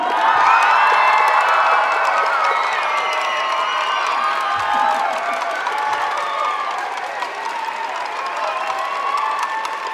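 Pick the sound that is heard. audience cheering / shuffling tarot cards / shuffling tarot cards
audience cheering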